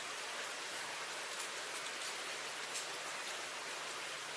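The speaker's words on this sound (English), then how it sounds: "I hope the rain keeps up for a little bit" Steady rain falls during a thunderstorm, a dense, even hiss of drops on surfaces with no thunder or talk, fairly quiet and constant throughout.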